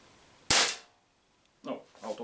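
A single sharp crack from a Umarex Walther PPQ M2 air pistol firing a hard plastic ball, loud and close, then a short quiet gap before faint handling and bumping noises follow.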